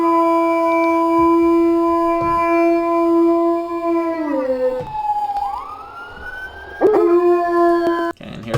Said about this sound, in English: Here's a different dog.